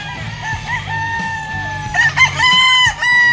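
Chickens on a farm cluck and a rooster crows loudly, the calls close and overlapping, with a longer crow rising near the end over a continuous clucking background.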